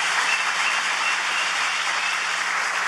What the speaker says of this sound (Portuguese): a quem eu queria pedir uma salva de palmas a toda a sua equipe